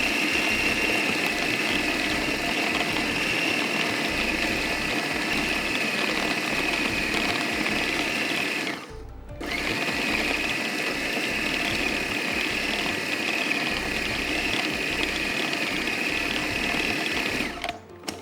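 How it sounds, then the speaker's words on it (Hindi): An electric spice grinder finely grinds white pepper, a loud, steady high-pitched motor whir with gritty rattling. It cuts out briefly at about the midpoint, then starts again and runs to just before the end. "चलें जी, इसको खूब अच्छा बारीक पीसना है आपको।"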